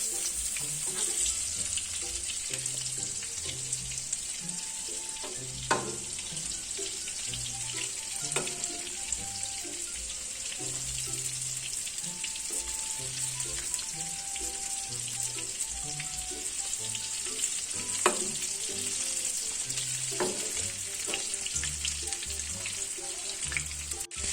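Homemade chicken wings frying in hot oil, a steady soft sizzle and crackle over about twenty-four seconds with occasional pops, close and fairly quiet, with no talking.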